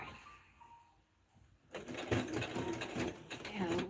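A sewing machine back-stitching through denim near a rivet, starting after a quiet pause with a close, rapid mechanical whir and needle clatter that runs steadily to the end.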